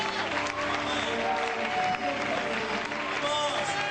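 A church congregation applauds the Lord, with dense, continuous clapping that fills the room alongside faint tonal voices, loud and steady throughout.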